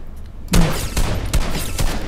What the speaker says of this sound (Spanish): Dos tiros buenos he llevado.